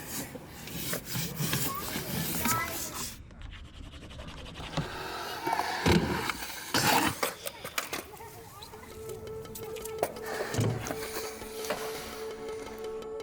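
A block of skateboard wax is rubbed along a rusty ledge in repeated rasping strokes, close and gritty, with brief pauses and a couple of sharper scrapes.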